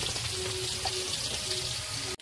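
Steady rain falls outside a home kitchen, making a continuous, even hiss and patter, fairly loud and unbroken throughout, with no voices.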